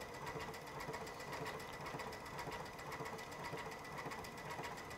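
A Baby Lock Altair sewing machine stitches bobbin work with metallic cording yarn, giving a fast, even mechanical whir with a regular rapid pulse, close and steady throughout with no talking.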